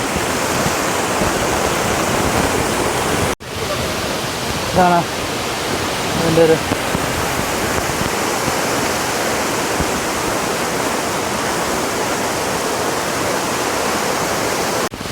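A forest waterfall (Vazhvanthol Waterfalls) keeps up a steady, loud roar of rushing water throughout. Someone speaks briefly over it partway through.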